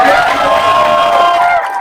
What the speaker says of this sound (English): Let's give a big cheer for those who are outside right now in the rain.